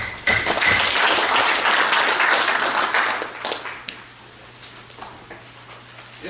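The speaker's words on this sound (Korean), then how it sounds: "이쪽 박수 부탁드립니다." Delegates at a regional union branch assembly applaud after a budget motion passes, a dense burst of clapping for about three seconds that thins into scattered claps and fades into room quiet.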